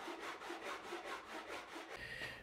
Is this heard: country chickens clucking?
no